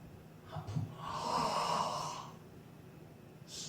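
One slow, deep breath drawn in audibly through the nose and mouth, swelling over about a second before easing off, in a quiet room.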